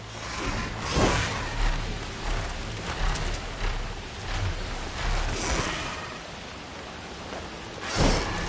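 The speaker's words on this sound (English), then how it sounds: "Flying through rain." Rain pours steadily in Horizon Forbidden West while flying, a broad hissing wash with gusting swells and a couple of louder rushes, no voices.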